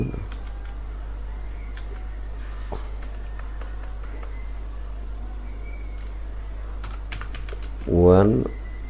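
Rapid clicking of keys on a computer keyboard in bursts close by, over a low steady hum, with a brief rising tonal sound near the end.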